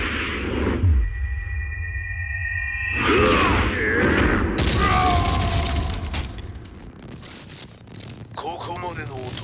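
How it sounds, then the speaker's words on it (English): Explosion at the Mishima dojo in the Tekken 7 video game, a deep booming blast with shattering debris and whooshes, followed by rumbling and scattered crashes, with a voice speaking over part of it. "Explosion confirmed at the Mishima dojo"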